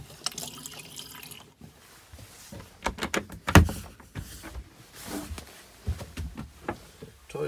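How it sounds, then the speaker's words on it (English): A motorhome toilet is flushed, with trickling, gurgling and dripping water in irregular bursts, close and fairly quiet, alongside a few knocks and clicks. "Toilet flush."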